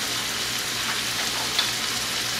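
Garlic shrimp for a Mexican-style dish frying in a pan, a steady broadband sizzle that holds evenly throughout with no talk.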